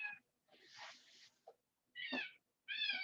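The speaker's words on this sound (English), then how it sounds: "Come on, cat." A pet cat meows unhappily in a quiet room, four short plaintive calls separated by pauses, close and fairly soft, with no talking.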